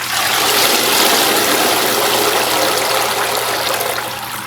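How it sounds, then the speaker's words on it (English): Water pours and gushes out of a strucket strainer as it is lifted, draining from scoured Navajo Churro sheep wool in a dense, steady, close rush. "I'm just gonna lift up the strainer"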